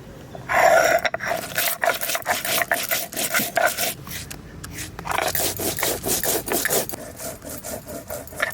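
Cumin and coriander ground on a grinding stone, close rhythmic scraping strokes repeating in quick succession, gritty and rasping, with brief pauses between runs.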